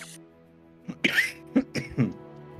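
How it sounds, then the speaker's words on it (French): Several harsh coughs and throat clears come in quick bursts from a nearby person during a French tabletop role-playing session, over a low steady background hum. "J'en tousse de joie."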